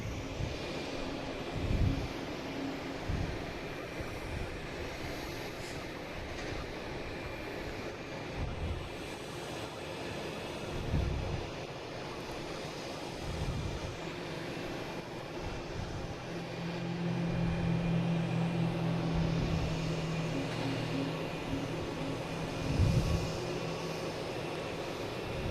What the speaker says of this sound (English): We have a JetBlue coming in, 2166. An A220 coming in from Fort Myers.